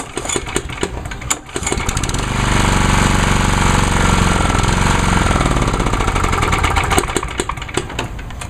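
A small-engine lawnmower runs loud and close with a steady, rough chugging drone that settles into an even idle after a few sputtering bursts at the start.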